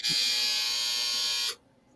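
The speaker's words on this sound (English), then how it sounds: "And there's the buzzer." A harsh electric buzz sounds loudly for about a second and a half, then cuts off abruptly into quiet.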